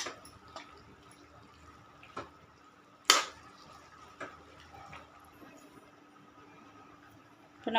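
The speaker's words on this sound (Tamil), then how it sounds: "அது நான் அதில் 1 கப்பு தண்ணி சேர்த்துருக்கேன். நல்லா கொதிக்குது பாருங்கள்." Water in a cooking pot for vendakkai pachadi, with a chopped okra, green chilli and coconut mix, sits near boiling with faint bubbling and a few sharp pops and clicks scattered over a quiet background.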